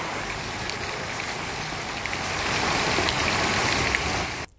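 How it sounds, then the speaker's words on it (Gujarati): Heavy monsoon downpour in Aravalli, a dense, steady roar of rain across the whole clip that swells slightly louder midway before cutting off abruptly. "ધોધમાર વરસાદ વરસી રહ્યો છે"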